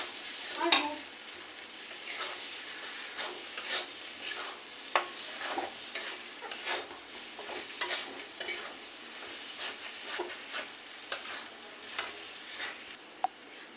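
Spice mix stirred through sizzling food in a frying pan, a steady low fry broken by repeated scraping strokes of a spoon against the pan, close and alone with no talk.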